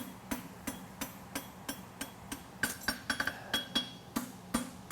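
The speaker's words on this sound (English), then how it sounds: "Leaning it, pulling my hammer down, and go all the way around the corner." Sharp metallic hammer strikes forging a horseshoe on an anvil ring out in a steady rhythm, close and clear, with a few quicker clusters of blows in the middle.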